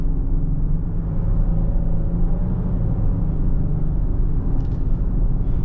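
A 2025 Genesis GV70 3.5T Sport at about half throttle on a drive gives a steady, loud, low engine growl and rumble, heard close and continuous with no talking.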